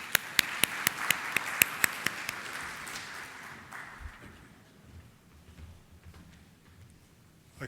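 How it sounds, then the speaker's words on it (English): At a CFO conference in the Middle East, a conference audience gives faint, sparse applause: a few distinct, evenly spaced claps that quickly fade into room quiet. "Let's welcome him all with a big round of applause."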